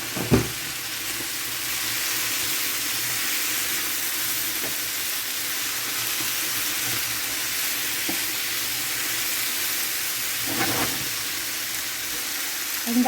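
Vegetables and pork stir-frying in a pan give a steady, close sizzle and hiss throughout, with a few brief clatters of stirring and no talk.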